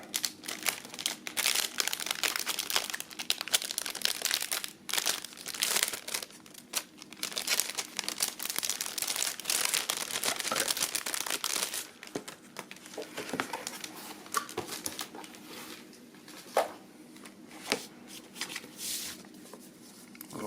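A package of paper notes is opened up close, with continuous crinkling and rustling of paper and soft taps and shuffles, louder at first and quieter later.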